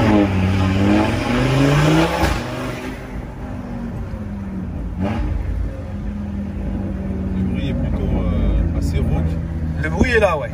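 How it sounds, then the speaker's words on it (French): Car with a modified exhaust line revving, the engine note rising and falling in a throaty drone, close by, with people talking over it. "C'est une ligne d'échappement qui a été modifiée."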